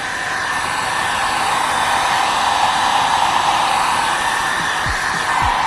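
A heat gun blows a steady, loud, continuous hot-air roar over carbon fiber visor tape on a Type R, holding an even broadband hiss for the whole stretch with no pauses and no talking.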